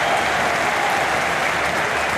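Stadium crowd at a Watford versus West Bromwich Albion Championship football match applauds in a loud, sustained wash of clapping that fills the whole moment without letting up.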